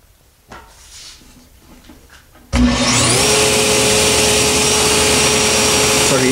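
A power tool cuts teeth in a wooden gear, starting abruptly with a loud sustained whine and rough cutting noise that runs for several seconds after quiet handling sounds and a bit of talk.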